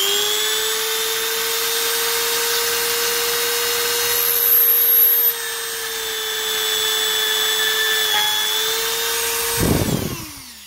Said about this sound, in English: let's see if we can get through with these drill bits